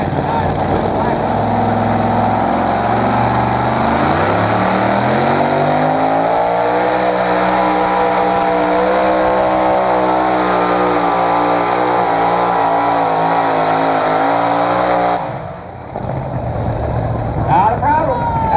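A pulling tractor's engine roars loud and sustained as it hauls the sled down the track at a tractor pull in Columbus, Texas, pitch climbing steadily before cutting off abruptly near the end, with an announcer's voice over it.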